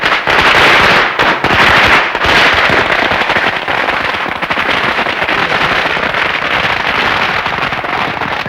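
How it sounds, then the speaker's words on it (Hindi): A dense, loud barrage of firecrackers crackles and pops continuously at an engagement celebration, rapid overlapping bangs rolling on without pause. "सगाई में पटाखे?"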